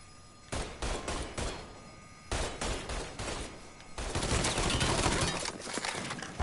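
Bursts of gunfire in the Mafia 3 video game: several loud, rapid automatic volleys separated by short pauses, then a sustained heavy stretch of continuous shooting near the end.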